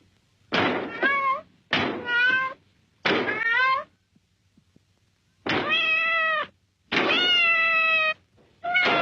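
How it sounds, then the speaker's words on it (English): A cat meows loudly and close by in six separate drawn-out calls, spaced with short silent gaps and a longer pause midway, each call rising and falling in pitch. "That's a cat!"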